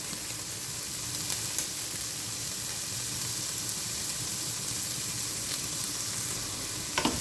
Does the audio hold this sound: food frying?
yes